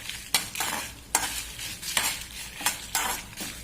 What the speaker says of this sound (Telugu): మెంతులు, కరివేపాకు వేయించాను